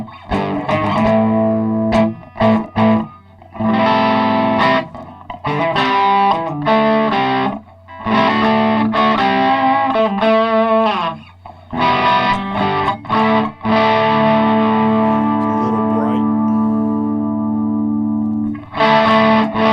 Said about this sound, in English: I'm just going to go by the old standard tube screamer